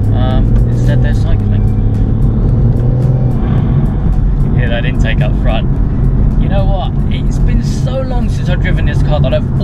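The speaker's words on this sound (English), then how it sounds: "You hear that intake up front?" The intake of a BMW M140i roars while the car is driven, a loud steady engine drone that swells with throttle, and a person talks over it throughout.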